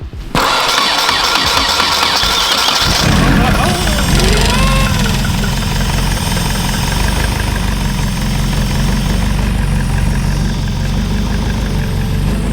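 A car engine with a swapped motor cranks and catches, then settles into a loud, steady, slightly low idle with a low, rough rumble; voices can be heard near the start.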